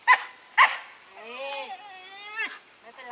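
Sharp dog barks in a scrap between two dogs on Koh Chang, Thailand: two loud close barks followed by drawn-out whining and growling yelps, with people talking in the background.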